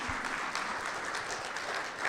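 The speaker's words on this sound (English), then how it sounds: "please, a round of applause for our panelists," A steady, dense round of audience applause for panelists after a women's day question and answer session, many hands clapping evenly throughout.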